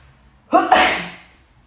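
A single sharp human sneeze bursts out during a market-day livestream, a quick intake then an explosive, breathy release that fades over about a second, loud and close against near silence.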